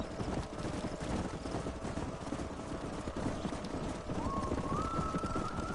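Horse hooves gallop in a steady clip-clop rhythm in the Red Dead Redemption video game while chasing a gold horse, close and continuous under engine-like game noise.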